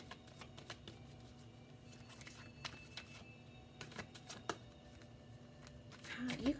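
Tarot cards being shuffled by hand, quiet soft riffling taps and flicks coming in irregular bursts, close and faint in a calm room.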